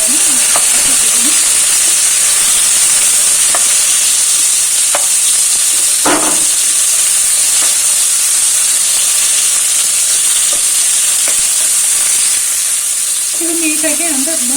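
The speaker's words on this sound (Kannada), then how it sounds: "ಇದು ನೀಟಾಗಿ, ಅಂದರೆ ಸ್ವಲ್ಪ ಫ್ರೈ ಆಗಬೇಕು ಈರುಳ್ಳಿ ಎಲ್ಲ ನೀಟಾಗಿ" Sliced onions fry in hot oil in a pan along with green chillies for a tomato bath dish, giving a loud, steady sizzle with occasional stirring scrapes and brief faint talk near the end.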